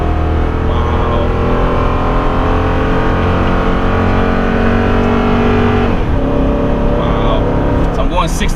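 A Toyota Tundra pickup in tow haul mode, towing a spread-axle trailer and accelerating at highway speed, heard from inside the cab as a loud, steady low engine and road drone throughout.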